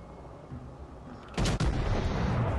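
Warship guns firing in World of Warships: Legends give a sudden loud, heavy blast that cuts through a quiet rumble partway in and sustains a booming roar to the end.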